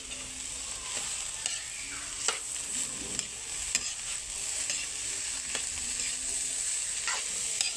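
Food being stirred in a hot pan, with a continuous sizzle and repeated scraping strokes of a utensil against the pan in an uneven rhythm, close and clear.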